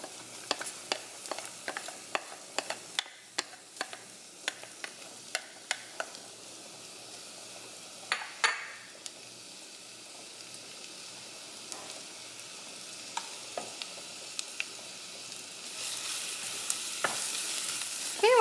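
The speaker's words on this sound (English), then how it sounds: "I'm gonna add in my garlic before my butter burns" Garlic sizzles in butter in a pan for a shrimp boil, a soft steady fry under frequent sharp clicks and scrapes of a utensil against the pan, building to a louder hiss near the end, no talking.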